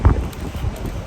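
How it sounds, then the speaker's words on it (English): Strong gusts buffet the microphone outdoors, a thumping low rumble that swells at the start and again midway, with no speech over it. "it's super windy. I hope you can still hear me."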